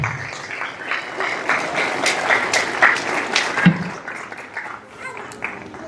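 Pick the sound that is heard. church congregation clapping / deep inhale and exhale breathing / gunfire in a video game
church congregation clapping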